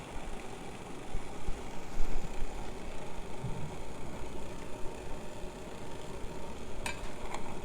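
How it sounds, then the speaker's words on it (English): Water in a pot over a hexamine tablet stove coming up toward a boil, giving a steady, fairly faint hissing rush with soft bubbling that holds throughout, with no voices. "the middle of the pot starting to boil. The sides are starting to go."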